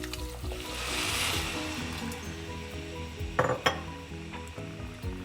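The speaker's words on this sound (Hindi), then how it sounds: "अब हम उसमें 3 कप पानी डालेंगे।" Three cups of water pour into a pan of dalia khichdi, a brief rushing sizzle followed by quieter simmering, with a couple of sharp utensil clinks near the end.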